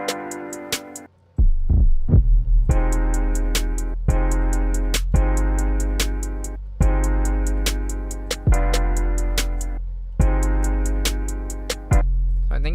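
A slightly distorted 808 bass sample tuned to F plays a repeating pattern of deep booming hits with sustained tonal tails, loud and alone without voices.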